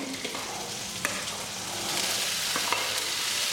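Vegetables for veg kurma drop into a hot pan and fry, a steady sizzle running throughout with scattered scraping clinks of stirring, growing slightly louder partway through; no one speaks.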